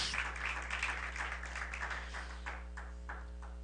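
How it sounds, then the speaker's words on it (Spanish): A church congregation claps for Christ during a Spanish-language service, a dense, steady wash of many hands at moderate distance, fairly soft and continuous with a low steady hum underneath. "¿Cuánto pueden darle un fuerte aplauso a Cristo?"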